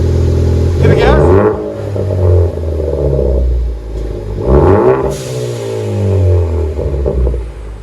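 A 2014 Ford Focus ST with a Flowmaster Flow FX exhaust revs hard twice, each rise climbing to a loud, raspy peak before falling back to a steady idle rumble.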